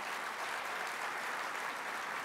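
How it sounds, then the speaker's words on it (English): Steady crowd applause at a State of the City event in Oklahoma, a dense wash of clapping at an even level throughout with no voices standing out. "Let's show a round of applause for the Thunder."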